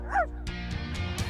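A cartoon dog gives a short yip followed by a few quick bright barks, close and clear over a soft musical background in an animated children's show.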